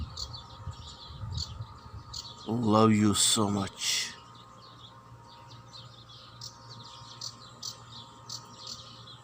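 Small birds chirp and tweet steadily in an outdoor natural setting, a continuous high twittering that runs throughout, briefly covered by a spoken phrase early on.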